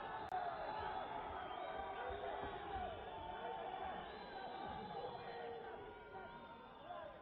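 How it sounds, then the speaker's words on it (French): A furious crowd at a wrestling match between Jimmy Dula, Jean Martin, Monsieur Montreal and Leon Minisini roars and jeers continuously, a dense wall of shouting voices with a commentator talking over it. "La foule est furieuse."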